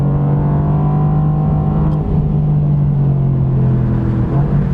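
A 2020 Mercedes-AMG GT R Pro drives a wet race track, its engine holding a loud, steady low drone from inside the car with only a brief dip, no voices.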